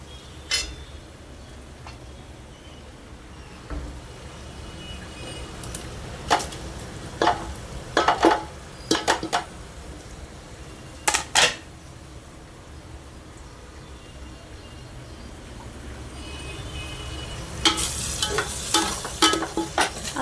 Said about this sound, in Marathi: आता ह्याला नीट मिक्स करून घेऊया आपण.